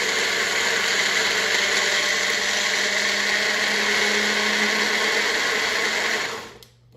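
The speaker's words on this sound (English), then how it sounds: "We use this little magic bullet thing for smoothies in the morning, but it's great for pureeing up just small amounts of stuff" A Magic Bullet blender purees diced green chilies with a loud, steady high whirring motor run close by. It cuts off abruptly near the end and no voices are heard.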